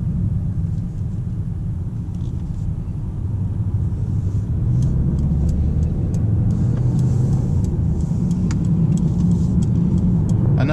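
A Mercedes A-Class driven in sport mode with stability control loosened, its engine a loud, steady low rumble from inside the cabin as it rounds a corner, no talking.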